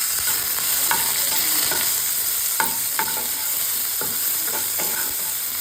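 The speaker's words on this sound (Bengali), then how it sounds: "দিয়ে দেবো সরিষার তেল। ফোড়নে দিয়ে দেবো তেজপাতা, গোটা গরম মশলা, গোটা জিরা। ফোড়ন বাদামি রঙের হয়ে গেছে। দিয়ে দেবো পেঁয়াজ কুচি।" Chopped onion sizzles steadily in hot mustard oil with bay leaf, whole garam masala and cumin. A spoon scrapes and taps the pan at irregular intervals over the constant frying hiss. No voices.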